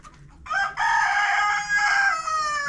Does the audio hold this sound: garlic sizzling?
no